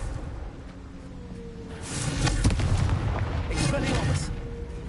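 Confringo, an explosive spell in the Hogwarts Legacy video game, sets off a deep booming blast that swells over a steady rumbling game backdrop and lingers for a couple of seconds.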